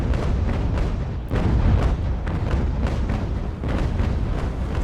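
Ship cannon fire in the naval strategy game The Ultimate Admiral: Age of Sail, heavy rumbling booms repeating in quick succession amid a dense battle din, loud and continuous.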